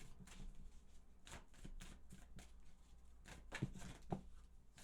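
Tarot cards are shuffled by hand in a quiet room, a series of soft riffling and tapping bursts in uneven rhythm, faint and close.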